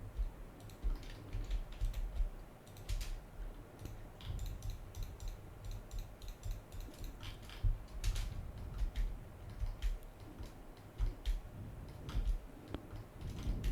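Typing on a computer keyboard while modelling in SketchUp: quiet, fairly steady runs of key clicks with mouse-like taps, close and soft over a low background hum.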